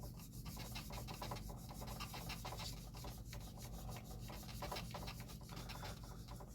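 Frets on a Les Paul guitar neck being polished, a steady close-up rubbing and rasping scrape that keeps up without a break, with low hum underneath and no voices.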